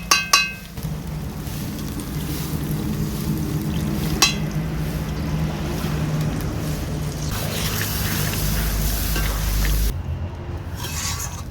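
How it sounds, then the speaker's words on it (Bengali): Water is poured into a pan of frying chicken to make gravy, giving a steady broadband sizzle and hiss with a few sharp clinks, the fizzing swelling louder partway through. "এবার এতে আমি গ্রেভির জন্য জল দিয়ে দেব।"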